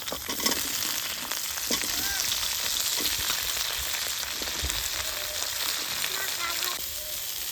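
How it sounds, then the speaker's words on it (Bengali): Chopped cauliflower frying in a pan over ginger already browned in oil, a steady loud sizzle with occasional stirring scrapes throughout. "দিয়ে দিচ্ছি কেটে রাখা ফুলকপিগুলো"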